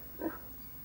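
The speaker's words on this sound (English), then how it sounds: "These are some swine that I've used." A short sampled pig grunt or squeal for sound effects, one brief nasal burst near the start that fades into quiet background, fairly faint and with no talk.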